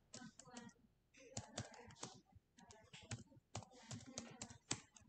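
Keys on a computer keyboard are tapped quickly in irregular bursts of sharp clicks with short pauses as a new email ID is typed in, sounding quiet and close.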